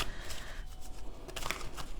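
A deck of tarot cards is shuffled by hand, producing several soft riffling, flapping bursts close up in a quiet room.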